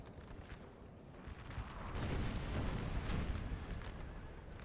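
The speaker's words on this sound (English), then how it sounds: "Artillery from France, though, is not making it easy either." Artillery fire from a large 4v4 Napoleonic Total War 3 battle, a dense, continuous rumble of booming cannon shots that swells louder toward the middle, with no talk over it.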